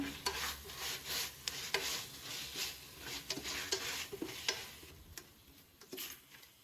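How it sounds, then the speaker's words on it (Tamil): Spoon stirring tomato, mint and coriander in a pressure cooker pot for Ambur mutton biryani, a steady scraping and stirring with a soft sizzle under it and sharp clicks against the pot. "ஒரு கை புதினா, ஒரு கை கொத்தமல்லி, இதையும் நான் சேர்த்துக்கிறேன். இதை முதல்ல நல்லா கலந்து விட்டுக்கிறேன்."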